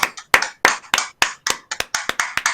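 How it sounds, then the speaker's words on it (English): A burst of hand clapping from a few people, sharp irregular claps coming quickly one after another, close and fairly loud, with no talking. "A round of applause for Dan."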